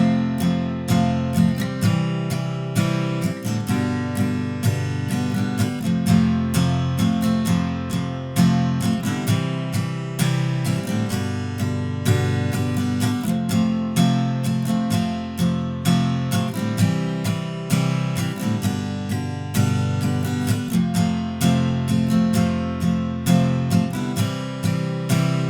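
Strummed guitar chords playing the bridge of a song, a steady rhythmic strumming pattern with regular accented strokes, close and clear for about twenty-five seconds without any talking.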